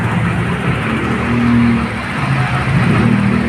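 MXI 125 motorcycle engine running steadily after starting, with a loud, close, even rumble and slight fluctuations in revs, alone with no talking.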